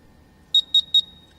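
A quiz buzzer at a live senior-category grand finale sounds three quick, evenly spaced electronic beeps, loud, bright and clean against a quiet room.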